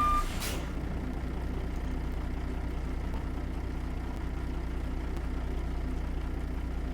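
A Caterpillar C-15 truck idles with a steady low diesel drone while backing under a trailer in American Truck Simulator, opening with a short hiss that sounds like an air brake releasing, with no talk.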